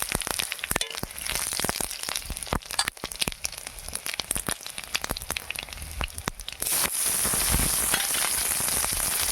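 Cumin and five-spice seeds sizzle and crackle in hot oil in a pan with dried and green chillies, a bright continuous frying hiss dotted with sharp pops, growing steadier and denser toward the end.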